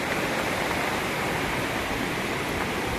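Loud, steady roar of rushing floodwater from Typhoon Enteng fills the whole clip, a constant broadband torrent with no pauses, close and unbroken.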